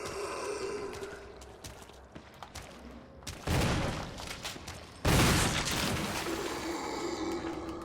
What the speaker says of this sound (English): I'm going to hit these two zombies with the shotgun